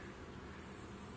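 A steady, high-pitched chirring of crickets fills the background by a river in the evening, faint and continuous with no other sounds.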